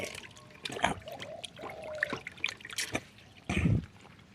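Gloves are lowered and soaked in a tub of plain ionizer-treated water with no chemicals added, giving soft close trickles, drips and sloshes with a louder splash near the end.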